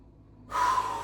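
A single sharp inhale during a yoga exercise, close and clear, rising suddenly after a quiet moment and holding as a breathy rush.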